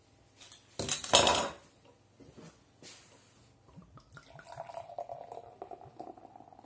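Discovery Black IPA, a 6% beer, poured vigorously into a glass: a loud splashing burst at first, then softer glugs and a steady fizzing of carbonation and foaming head, with light glass clinks.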